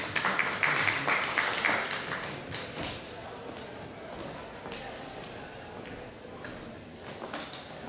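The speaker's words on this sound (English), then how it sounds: "Everyone, please give him a warm round of applause." Applause from a summit audience, dense at first and then thinning into scattered claps and light taps, with a faint murmur underneath.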